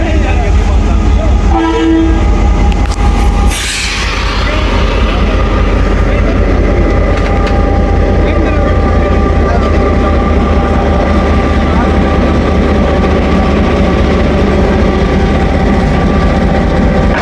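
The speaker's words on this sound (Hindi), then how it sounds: "पूरे 11 बजे लोकोमोटिव अटैच हो गया जी।" Train sounds at Attock City Junction as a GMCU locomotive is attached to a passenger train: a brief horn toot early on, then a steady loud rumble of diesel engine and rail noise continuing throughout.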